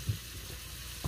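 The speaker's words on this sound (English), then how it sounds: "Our peppers are sizzling away there," Peppers sizzle in a pan for peanut butter hoisin ramen, a soft, steady crackling hiss and a couple of low bumps, heard close and alone.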